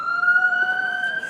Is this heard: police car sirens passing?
yes